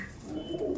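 Pigeons coo in a low, continuous murmur, close by and at a steady moderate level, among birds kept for a pigeon flying tournament.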